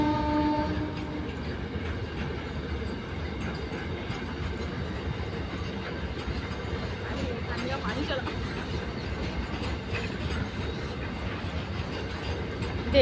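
A freight train rolls past on nearby tracks, a steady loud rumble of wheels and wagons throughout, with a horn-like tone near the start.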